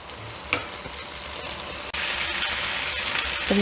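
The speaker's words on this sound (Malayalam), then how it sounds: "ക്യാപ്സിക്കം ഒന്ന് വഴന്ന് വന്നപ്പോൾ ഞാനിതിലേക്ക് നമ്മൾ വറുത്ത് വെച്ച ചിക്കൻ ഉണ്ടല്ലോ അതിട്ട് കൊടുക്കുകയാണ് കേട്ടോ" Fried chicken pieces hit sautéed capsicum in a hot pan, setting off a loud, steady sizzle with a few stirring scrapes and clatters.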